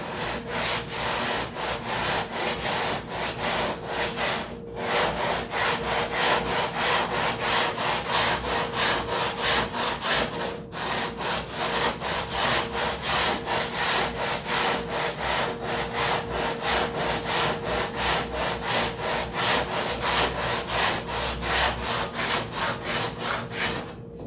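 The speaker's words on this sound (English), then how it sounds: "we start sanding cross section like this until we get to the center line" Steady rhythmic scraping of abrasive on wood, sanding a model airplane horizontal stabilizer by hand, back-and-forth strokes continuing for a long stretch with brief pauses, close and fairly loud.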